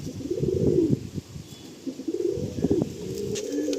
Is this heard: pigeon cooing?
yes